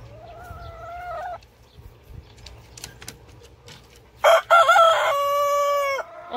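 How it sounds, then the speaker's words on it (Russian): A rooster crows loudly up close, with hen clucking and scattered bird calls around it in a farmyard. "Вот курочка квохчет, яичко нам сегодня снесет."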